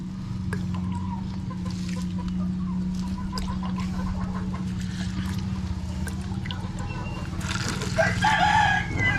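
Chickens kept on a Filipino farm during the rainy season, with a rooster crowing and hens clucking at a moderate distance over a steady low hum, growing louder toward the end.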